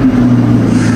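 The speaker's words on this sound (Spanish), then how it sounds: "ya escuchaste el motor" Engine of a 2023 Corvette Stingray 70th Anniversary Edition, a loud, steady low rumble held close and constant for a brief moment, with no voices.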